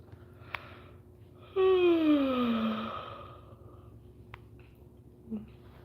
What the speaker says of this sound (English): I know I'm yawning, y'all